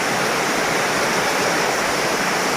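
Heavy cyclone rain from Cyclone Remal pours down steadily as a dense, continuous hiss filling the space, loud and unbroken throughout with no voices.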